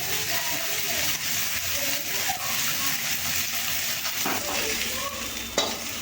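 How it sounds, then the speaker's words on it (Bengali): Continuous crackling sizzle of small mola fish frying in hot oil, close and steady, with an occasional clink of a utensil. "আপনার ছোটো কুচো মোরলা মাছ ছেড়ে দেওয়া হয়েছে কয়েকটি ভাজা চলছে"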